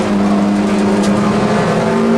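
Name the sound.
Toyota MR2 race car driving at Silverstone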